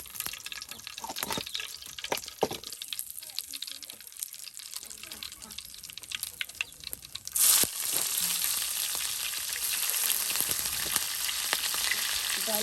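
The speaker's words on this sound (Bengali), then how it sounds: "এই যে এখন আপনার বড়া তৈরি করা হবে" Lentil fritters (bora) fry in hot oil for Baisakhi dal. Intermittent crackles and drips give way to a louder, continuous sizzle as more batter hits the oil, with faint voices in the background.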